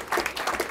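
Brief applause at a Roy City Council meeting, a short burst of a few people clapping in a room.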